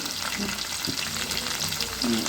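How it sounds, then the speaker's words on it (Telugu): Sliced onions and green chillies sizzle in hot oil, a dense continuous crackle with occasional scrapes as the pan is stirred, close and fairly loud. "వేగనివ్వాలి కలుపుకోవాలి బాగా కలుపుతూ ఉండాలి కింద మాడిపోకుండా చూడండి"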